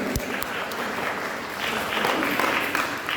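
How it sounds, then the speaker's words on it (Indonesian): Steady applause from a school orientation audience, many hands clapping together without pause, with a few sharper claps standing out near the start. "Kasih tepuk tangan dong buat Lukas"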